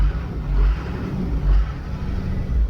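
A 12-valve Cummins diesel engine in a Ford F-450 truck build idles with a deep, steady low rumble, loud and close, pulsing gently with no talk over it.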